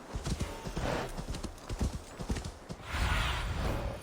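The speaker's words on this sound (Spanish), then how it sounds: "el caballito no quiere saltar, ¿eh?" Horse hooves clip-clop in Assassin's Creed Valhalla, a steady rhythmic patter over game ambience, with a soft whinny-like swell near the end.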